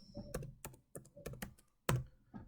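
Fingers tap out a short burst of keystrokes on a computer keyboard, a handful of distinct clicks with small gaps between them, close and fairly quiet.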